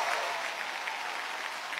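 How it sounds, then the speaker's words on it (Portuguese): Studio audience applause on a Brazilian TV variety show, a steady broad wash of clapping that holds at an even level for the whole short stretch, with no voices over it. "Uma grande salva de palmas pro Romeu aí."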